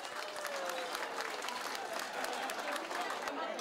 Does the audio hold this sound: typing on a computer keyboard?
no